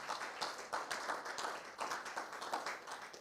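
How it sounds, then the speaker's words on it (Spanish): Applause from a church congregation, many hands clapping together in dense, steady bursts that fill the room for a few seconds without speech over it. "¿Le damos un aplauso a Cristo?"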